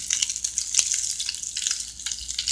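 Bacon frying in a pan: a close, steady crackle of sizzling fat with small pops and spits scattered throughout, no voices.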